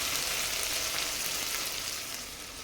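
Sliced tomato frying in a pan with onions, a steady, close, even sizzle that holds for the whole moment, with no voices over it.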